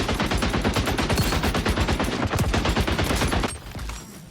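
Rapid, loud automatic gunfire in the video game Modern Warfare 2, a dense continuous burst of shots lasting a few seconds before cutting off abruptly into quieter ambience.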